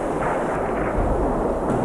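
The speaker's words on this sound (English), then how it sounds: "the explosion came across, and it was very loud, and the whole house shook" Blast of the 1993 World Trade Center bombing, heard as a loud, sustained, low, rumbling roar with no clear start or end and no voices.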